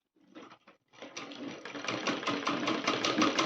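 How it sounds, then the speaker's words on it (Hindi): A sewing machine double-stitches a Rajputi kachali blouse: a couple of short bursts, then a rapid, close, rhythmic stitching clatter that builds and holds steady. "डबल सिलाई कर लेनी है।"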